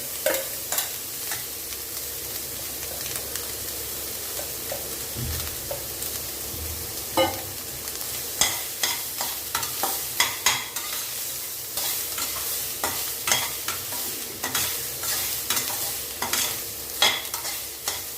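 Cooked rice for pear rice being stirred and sautéed in a pan, a soft background sizzle with repeated spatula scrapes that grow more frequent and rhythmic toward the end, close and without voices.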